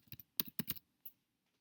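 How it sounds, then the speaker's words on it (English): Short burst of keystrokes on a computer keyboard, about eight close, crisp clicks in a quick uneven run with a brief pause before the last one. "I'm going to type Monday in capital letters."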